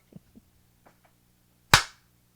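A single sharp hand clap, close and loud, follows a few faint knocks and small sounds in a quiet podcast studio, with one decaying burst standing alone.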